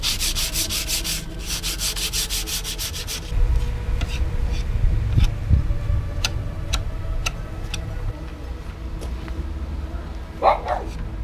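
Hand sanding of wood during a Renault Trafic camper van conversion, a steady scratchy rubbing that runs through the whole stretch with occasional light ticks and a brief knock near the end.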